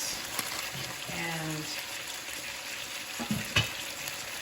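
Food browning in a pan on the stove, after Lipton soup mix has gone in: a steady broadband frying sizzle with a few stirring scrapes and light clatters, close and continuous.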